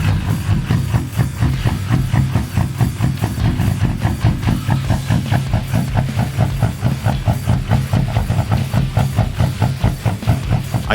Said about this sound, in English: but that's a badass sounding lope